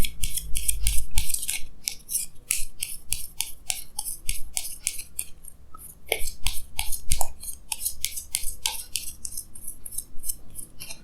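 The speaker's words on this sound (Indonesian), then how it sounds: "Jadi sini saya akan tarik lagi 2 kartu tambahan." Tarot cards are drawn and shuffled in a quick, steady run of crisp swishes and flicks, close up and fairly loud, with no talking over them.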